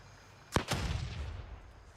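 In the Gray Zone Warfare shooter game, a thrown grenade bounced off a wall explodes in two sharp, loud blasts in quick succession, then a rumbling tail fades away.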